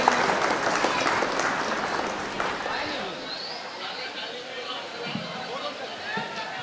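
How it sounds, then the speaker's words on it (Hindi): Applause from the crowd at a mushaira poetry gathering and honour ceremony in a town council compound, loud dense clapping that fades after a few seconds into murmuring crowd chatter and a few scattered claps. "आप लोग तालियां बजाते रहें, तालियां बजाते रहें"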